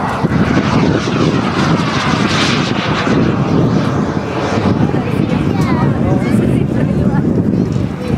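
A radio-controlled model of a Eurofighter Typhoon jet flying at a model airfield, a loud, continuous roaring engine that stays close and steady while someone speaks over it.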